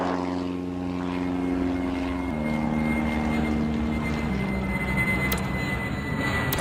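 A propeller airplane in the Airport Madness game takes off, a steady droning engine tone holding and then shifting pitch under a continuous synthetic roar, loud and close throughout.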